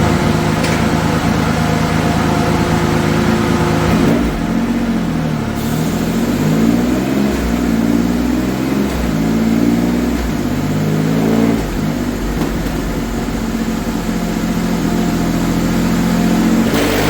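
A Triumph Rocket 3 motorcycle with a large engine revs and accelerates loudly and up close, its deep roar rising and falling through several pulls over a steady, dense drone with no speech.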